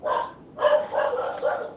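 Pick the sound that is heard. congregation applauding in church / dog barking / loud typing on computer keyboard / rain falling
dog barking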